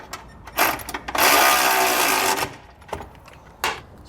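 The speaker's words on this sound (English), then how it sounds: "We switch over to our torque wrench." A torque wrench tightens the bolts of a Roadmaster crossbar-style base plate on a 2021 Jeep Wrangler. It gives a sustained close mechanical whir of about a second, with short clicks and clanks before and after.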